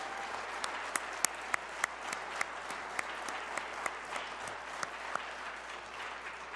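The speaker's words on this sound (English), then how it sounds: "let's give them a round of applause" An audience applauds recovery coaches in blue jackets at a public event, a dense, steady wash of clapping with a few sharper individual claps standing out, sustained throughout.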